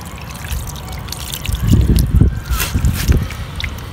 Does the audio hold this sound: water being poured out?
yes